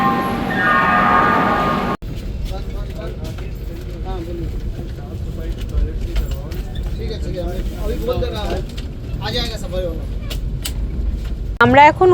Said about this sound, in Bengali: আমরা এখন উঠে গেছি 18005 হাওড়া জগদলপুর সম্বলেশ্বরী এক্সপ্রেসে